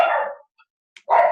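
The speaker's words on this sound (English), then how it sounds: "Having 4 dogs that are old is very hard." Old dogs barking in a house, two loud close barks separated by a short silence, with no speech.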